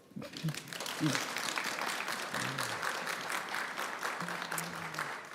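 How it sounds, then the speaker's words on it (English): Applause at a nursing pinning ceremony as graduates clap for their families, a full, steady crowd sound heard a little distantly, with a voice speaking over it in places. "Graduates, give your family a round of applause."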